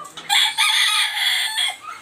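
A rooster crows loudly and close on an Ayam Cemani farm, one long drawn-out call broken into segments, with chickens clucking faintly around it and no talk.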